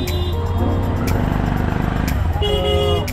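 Riding in an auto-rickshaw at night in Sylhet, Bangladesh, through steady engine and road rumble, with several nearby vehicle horns honking in short bursts and faint voices in the background.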